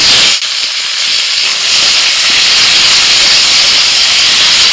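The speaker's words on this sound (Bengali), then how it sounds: "কড়াইতে অল্প সরষের তেল দিয়ে তার মধ্যে আর দিয়ে দিয়েছি একটা তেজপাতা। এবার দিয়ে দিচ্ছি টমেটো।" Tomatoes hit hot mustard oil with a bay leaf in a kadai, a loud steady sizzle and hiss that surges after a brief pause and holds strong throughout, with no talking.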